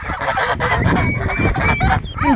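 Several geese honk loudly and repeatedly at close range, overlapping calls with harsh nasal tones filling the whole stretch alongside other farm fowl, with no talk.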